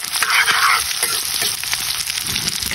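Garlic and onion sauté in a hot pan for a Bicol express with pork and chicken, a loud, steady crackling sizzle close up with a few stirring scrapes and no talking.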